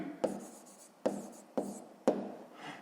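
A pen writing numbers into a school maths notebook, four short scratchy strokes spaced about half a second apart, close and quiet with no talk.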